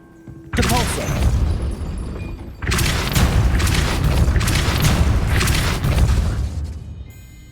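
Spell blasts from Hogwarts Legacy gameplay burst out in two loud, sustained bursts of booming, crackling impact noise, the first after a brief quiet start and the second running several seconds before fading.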